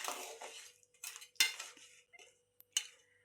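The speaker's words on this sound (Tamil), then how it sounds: "உப்பு போட்டுட்டு நல்லா கலக்கி விடுங்க." A metal spoon scrapes and clinks against a pot while crab gravy is stirred with rock salt, in short, irregular bursts of clatter with brief gaps between them.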